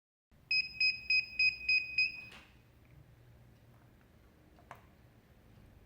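An electrical buzzer on an HVAC training test panel sounds in five short, evenly spaced high beeps, then stops, leaving a quiet room hum and a faint click.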